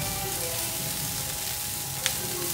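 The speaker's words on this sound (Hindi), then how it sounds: "थोड़ी देर के लिए सौते कर लेंगे" Capsicum and chicken sauté in a hot pan with a steady, close sizzle throughout and a brief clink near the end, no voices.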